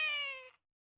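A single clear cat meow, close and fairly loud, about half a second long with a bright harmonic tone that fades out, followed by silence.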